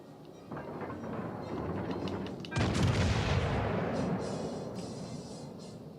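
15-inch naval guns firing in World of Warships: Legends, one heavy deep boom erupting midway and rolling into a long fading rumble over steady battle ambience, with faint talk beneath.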